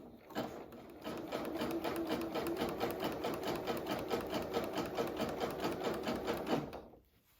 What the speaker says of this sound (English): getting it to move through the machine